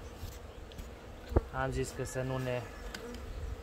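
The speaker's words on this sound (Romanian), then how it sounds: "această mână de albine" Honey bees buzzing near an opened hive during a beekeeper's inspection, a low steady drone under a man's nearby speech, with a sharp knock partway through.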